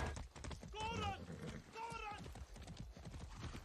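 A horse in the video game Far Cry 6 whinnies twice amid clip-clopping hooves and busy game noise, with someone talking over it.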